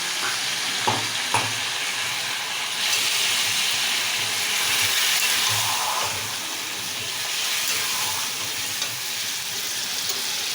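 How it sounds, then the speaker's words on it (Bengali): Mutton kima spice paste fries in a hot pan with a steady, close sizzle and hiss, punctuated by a few scraping stirs; no voices over the cooking. "মশলা কষা হয়ে যাবে।"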